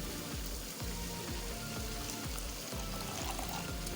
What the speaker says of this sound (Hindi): तो मैं 2 टेबल स्पून पानी ऐड कर दूँगी इसमें